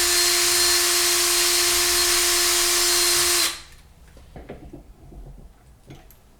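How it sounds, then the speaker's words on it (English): A power drill whines steadily at high speed for a few seconds drilling small holes in a PCV valve, then cuts off, leaving quiet handling and faint clatter of parts. "drilling the top 7/64 and the bottom holes"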